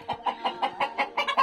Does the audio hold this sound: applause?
no